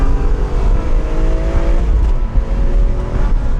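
The naturally aspirated engine of a BMW E46 M3 (US version, 333 hp, revving to 8000 rpm) roars loud and close, holding a continuous rising, throaty drone with no speech.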